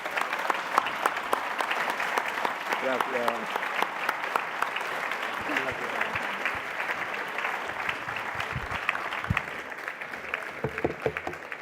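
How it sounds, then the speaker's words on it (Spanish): An audience applauds a speaker after a geopolitics lecture, a sustained burst of clapping filling the hall, with a voice briefly speaking over it. "Un aplauso,"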